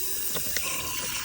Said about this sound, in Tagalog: yung patubig natin at kailangan natin maghugas ng kamay